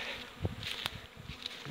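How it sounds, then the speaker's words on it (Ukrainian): Honey bees buzz faintly around hives on a spring day, with several individual bees droning past close by against a quiet background. "Значить, пчолки хорошо обльотуються."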